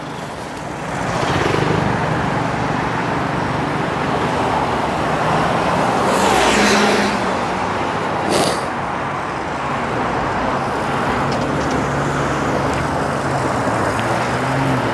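Steady road traffic in North York, Toronto, with a continuous broadband rumble of cars and buses passing at moderate distance, swelling slightly around the middle and holding loud throughout with no talk.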